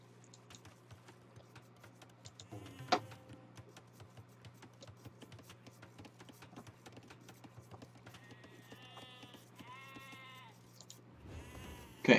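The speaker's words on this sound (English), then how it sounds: "ALIKOG not making any more sheep" Sheep bleating in a real-time strategy game, a few faint wavering bleats in the background amid a steady patter of clicking and soft game noise.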